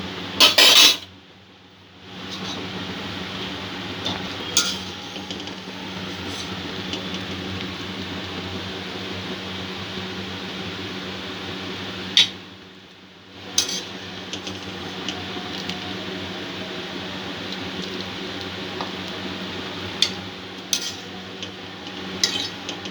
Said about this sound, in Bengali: নুডলসটা সেদ্ধ হয়ে গেছে, তুলে নেব এবারে জল থেকে।